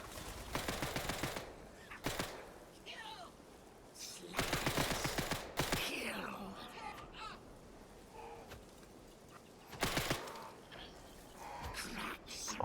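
Bursts of automatic gunfire from soldiers in the video game Atomfall, several separate volleys of rapid shots with quieter gaps between, moderately distant and crackling.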